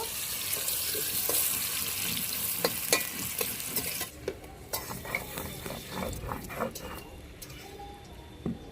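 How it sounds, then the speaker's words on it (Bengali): Potatoes frying in oil until reddish for a vegetarian cauliflower-potato curry: continuous sizzling with repeated scraping and clinking of a spatula against the pan. "আলুটা একটু লাল লাল করে ভেজে নেব"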